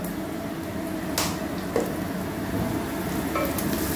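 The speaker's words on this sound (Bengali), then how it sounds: "পেঁয়াজটা হালকা হালকা ভাজা হয়ে গেছে।" Onions and spices fry in a pan with a steady, close sizzle throughout, broken by a few brief scraping stirs; no one speaks.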